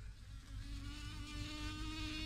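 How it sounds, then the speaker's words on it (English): A bee trapped in a spider's web in a studio buzzes continuously and steadily, close and fairly loud, with a wavering whine and no talk. "It's a bee trapped in a spider's web,"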